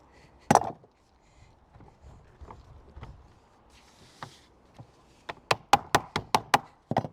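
Lengths of lead flashing knocked up with a hand tool: one sharp knock, then after a pause a quick run of about eight crisp, evenly spaced taps close by, with no talking.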